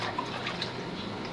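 Water sloshing and splashing in a basin during a child's bath, soft liquid movement with small drips, close and brief, with no clear talk.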